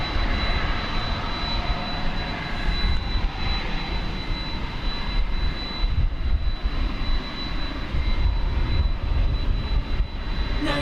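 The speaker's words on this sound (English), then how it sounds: "27-year-old airframe, 767-300ER. This one off to Louisville" A 27-year-old Boeing 767-300ER jet airliner at DFW airport gives off a continuous broadband engine roar, loud and steady throughout with no voices over it.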